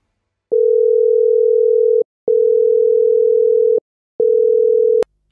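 A phone call ringback tone plays while a daughter rings her father: three long, steady electronic tone bursts separated by short pauses, clear and alone, ending with a sharp click.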